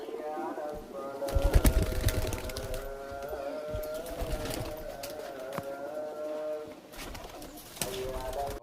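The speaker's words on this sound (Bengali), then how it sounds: "পায়রা দেখুন কেমন।" Teddy pigeons in a loft cooing, with repeated soft throaty coos near and far, a few brief flutters and clicks, and people talking faintly alongside.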